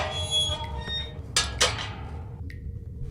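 Wooden door creaking as it is levered off its hinges with a plank, a single strained squeak with two sharp bursts mid-clip over a low rumbling background.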